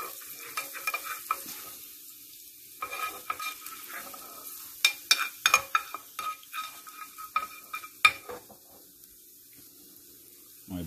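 Chopped garlic sautéed quickly in oil in a pan, bursts of crackling sizzle and sharp spatula scrapes in an irregular rhythm, with quiet gaps between stirs.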